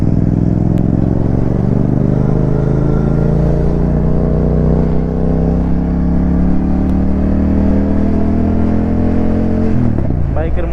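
A motorcycle weaving through a city-edge traffic jam, its engine humming loudly and steadily close by, mixed with surrounding car and vehicle noise, ending in a short rattle.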